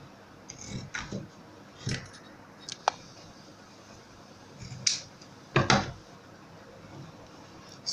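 Scissors cutting out a fabric shape for a handbag, giving a handful of short, separate snips and crisp clicks spread through a quiet room, with faint handling noise between cuts.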